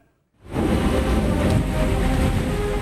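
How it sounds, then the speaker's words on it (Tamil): Steady rain pours down as a broad, continuous roar that starts abruptly after a brief silence and stays loud and even throughout. "தமிழகத்தின் பல்வேறு பகுதிகளில் கடந்த சில நாட்களாக விட்டுவிட்டு மழை பெய்து வருகிறது"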